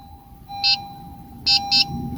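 Sharp electronic beeps from a 2016-2020 Honda Civic sound once, then twice in a quick pair, over a faint steady hum, during key fob programming.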